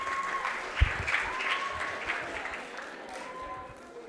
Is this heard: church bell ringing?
no